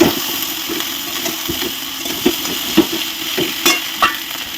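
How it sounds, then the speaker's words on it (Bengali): Onion, garlic, cauliflower and chicken frying in a blackened wok, a constant close hiss of oil with a low hum underneath and regular scraping strokes of a spatula. "এইভাবে কিছুক্ষণ ভাজতে থাকবো পেঁয়াজ রসুন এবং ফুলকপি"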